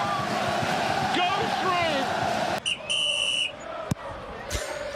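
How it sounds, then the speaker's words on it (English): Referee's whistle at a Grimsby football match at Blundell Park, heard as a sharp sustained blast cutting through the loud crowd roar and commentary talk. "What was that, a whistle"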